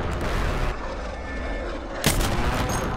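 Heavy gunfire in a battle royale shooter, a dense, loud stretch of firing with a sharp burst near the end, no talking.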